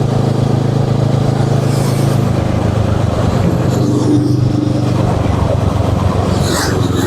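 A Kawasaki ER6N motorcycle engine runs below 5000 RPM on a ride toward Jatiluwih. It gives a steady, close low drone that holds an even pitch throughout without revving up.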